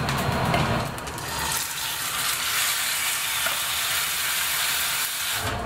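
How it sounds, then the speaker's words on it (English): Beef sizzles hard in a pan with a dash of oil, a dense, steady hiss and crackle held close and loud throughout. "I am now going to cook the beef. Dash of oil, not too much."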